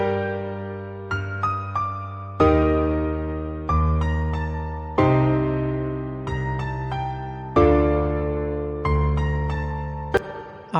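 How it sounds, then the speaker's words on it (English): A simple synth-piano melody for a reggaeton beat, played alone in clear repeating sustained chords and notes with steady rhythmic attacks, each decaying before the next. "I actually create a really simple melody which sound like this"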